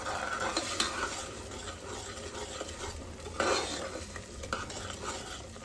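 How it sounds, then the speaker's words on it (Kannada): Ground onion and green chili masala roasts in a pan for mutton sambar, a steady sizzle broken by scraping and clinking stirs. The sound is fairly quiet and close, with no voice. "ಈರುಳ್ಳಿ ಖಾರ. ಇದು ಫುಲ್ ಹಸಿ ಸ್ಮೆಲ್ ಹೋಗೋ ತನಕ ರೋಸ್ಟ್ ಮಾಡ್ಕೋಬೇಕು."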